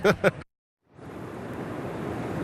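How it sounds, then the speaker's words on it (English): Steady broadband roar of wind and rain pours in after a short silence, dense and continuous, with a couple of brief voice-like bursts at the very start. "the gusts of wind, the rain coming down now"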